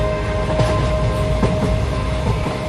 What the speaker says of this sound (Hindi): ट्रेन चलने लगी मम्मी